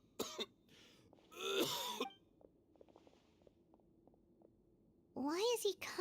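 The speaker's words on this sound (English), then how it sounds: "Why is he coughing so much?" A character in the video game Genshin Impact coughs and clears his throat in several harsh, close bursts, with quieter game sounds in between.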